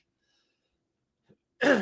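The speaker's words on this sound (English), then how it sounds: "we're still battling the cough here" A single short throat sound like a cough bursts out near the end after near silence, close and fairly loud.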